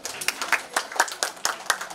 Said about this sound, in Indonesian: Dr. Nani Kusumaningrum, MPH, tepuk tangan.